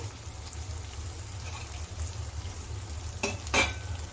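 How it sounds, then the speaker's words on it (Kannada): Spice powder is stirred into brinjal masala with oil in a pan, a steady low sizzle running throughout with a couple of brief scraping strokes near the end, close and quiet. "ಎಣ್ಣೆ ಜೊತೆ ಚೆನ್ನಾಗಿ ಮಿಕ್ಸ್ ಆಗಬೇಕದು"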